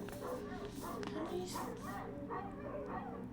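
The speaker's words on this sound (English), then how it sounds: "the dogs won't stop barking because they see something" Dogs bark in repeated, evenly spaced bursts from somewhere nearby while a person talks over them throughout.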